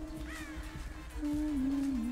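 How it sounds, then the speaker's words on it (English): A crow caws once or twice, somewhat distant, over a low steady background hum with no talking, in the game Dead by Daylight. "She will have probably heard those crows."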